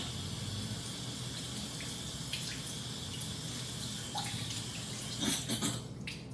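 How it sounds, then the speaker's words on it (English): Cold tap water runs steadily over cooked pasta in a strainer in a sink, a constant close splashing rush with a few clinks near the end. "Run the pasta under cold water."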